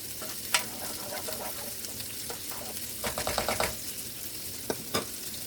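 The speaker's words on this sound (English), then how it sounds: "So I like to add broccoli in there." Broccoli sizzles steadily in a frying pan while being stirred, with close scraping and clacking of the utensil in bursts over a continuous hissing fry.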